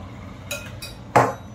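A utensil stirs Maggi noodles and their seasoning in a pan, giving a few soft metallic knocks followed by one sharper clink near the end, close and quiet with no voices.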